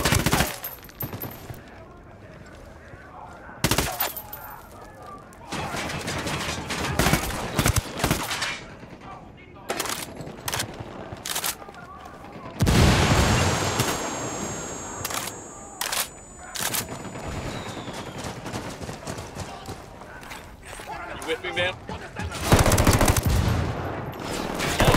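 Bursts of automatic and single-shot gunfire ring out in a Ghost Recon Wildlands firefight, loud sharp volleys separated by quieter gaps, with heavier sustained barrages in the middle and near the end.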